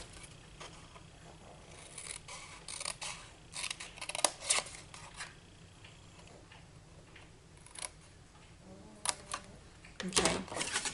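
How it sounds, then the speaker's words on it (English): Scissors snip through paper card for a Father's Day pop-up box card, a scatter of crisp cuts, some in quick bursts, close and fairly quiet with no talking. "so we're going to go ahead and cut that."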